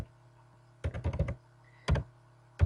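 Three short bursts of quick keystrokes on a computer keyboard, close and crisp, with quiet pauses between them and no talking.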